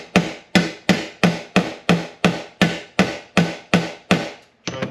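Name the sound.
hammer banging out a dent in metal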